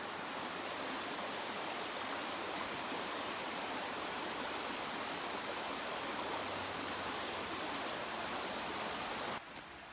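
A river at a trail crossing on the Appalachian Trail rushes with a dense, continuous roar that stays steady throughout and drops away sharply at the very end.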